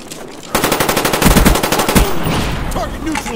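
Sentry gun in Call of Duty: Black Ops firing a long rapid automatic burst, loud and close, with a few heavier thumps mixed in before it trails off into background battle noise.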